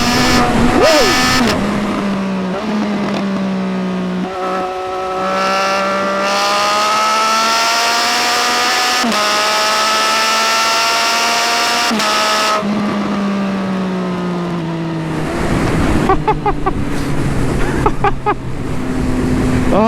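A 2018 Triumph Speed Triple 1050 RS motorcycle with traction control off accelerates hard, its close, loud engine note climbing through the gears with quick pitch drops at each shift and a roar of wind.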